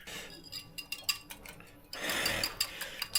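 Eggs are whisked in a pan with cooked tomato, and the utensil clinks lightly against the metal in quick, close taps. A denser scraping, swishing stretch follows before the tapping resumes.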